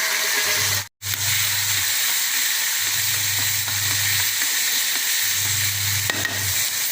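Turkey berries, crushed and added to a hot pan for a thuvaiyal, sizzle and hiss in a steady, close frying sound, with a low rumbling hum coming and going in three stretches and a brief dropout near the start.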